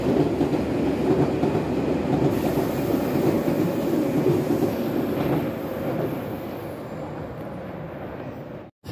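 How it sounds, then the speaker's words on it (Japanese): A 200 series train in 1800 series revival colours rushes through Nishiarai station, a loud, steady roar that gradually fades as it recedes, ending in a brief sharp cutoff. "通過していたのは1800系のリバイバルカラーの200系ですね。"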